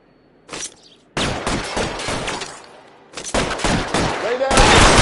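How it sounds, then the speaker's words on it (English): Bursts of suppressing gunfire in L.A. Noire: several loud rapid volleys of shots, separated by short pauses, up close with no talk over them. "I'll lay down some suppression fire."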